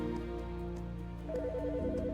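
A phone rings in the video game Autopsy Simulator, a steady electronic ringtone whose tone shifts partway through into a rapid, repeating warbled melody. It is heard alone with no talk.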